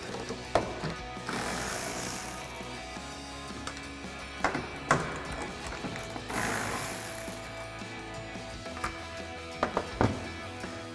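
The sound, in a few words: 8mm socket ratchet removing taillight bolts, Ford F-150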